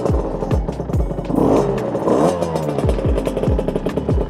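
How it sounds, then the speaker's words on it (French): Motorcycle engine with the choke on, running on premixed fuel after its pump was removed, sputtering and catching in loud, regular pulsing beats that continue steadily throughout, with no talking. "on met le starter toujours parce qu'on sait pas si ça va démarrer"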